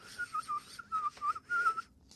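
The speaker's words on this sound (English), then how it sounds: "put her hands in her apron pockets, and began to whistle." A person whistling a short tune, several clear sustained notes in quick phrases, close and alone with no talk.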